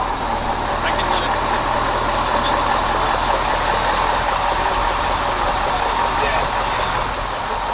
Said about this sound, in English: Man, it's like half cranked, fired right up.